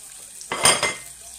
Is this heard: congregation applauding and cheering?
no